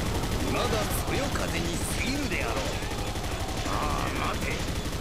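Rapid, evenly spaced shots of gunfire in the PS5 video game Basara 4 Sumeragi, a steady mechanical rattle under busy game effects with a voice speaking in the background.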